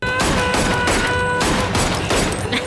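Rapid gunfire from a shootout in the film Mission Impossible 3, a dense burst of sharp shots and impacts running continuously and loudly across the whole moment with tonal music underneath.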